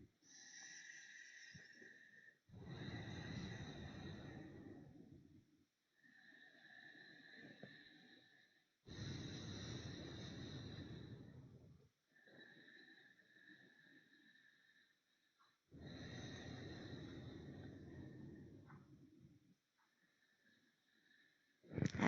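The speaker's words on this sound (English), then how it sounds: "Breathing in the Ujjayi form." Ujjayi breathing during a yoga vinyasa class, slow audible oceanic breaths alternating in long inhale and exhale phases of a few seconds each, close and soft, over a faint steady tonal hum.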